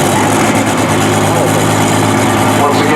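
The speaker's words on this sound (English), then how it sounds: "Big ass tractor." A big tractor engine idles at a fair grandstand, a loud, steady low rumble with constant vibration throughout.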